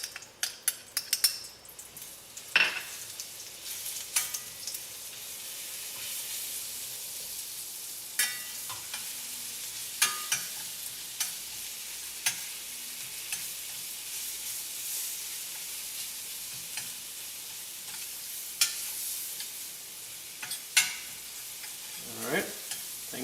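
Minced garlic sizzles in melted butter in a pan for homemade pizza, a soft steady hiss with repeated scraping stirs and light clinks of a utensil against the pan.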